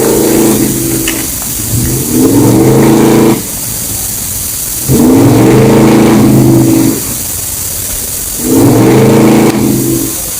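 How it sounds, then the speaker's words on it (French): A 1998 BMW M5 E39 with a 5-litre 32-valve V8 revs in three separate bursts, each climbing in pitch and holding before dropping back to a steady idle, loud and close. "la bête est animée par un V8 32 soupapes de 5 litres"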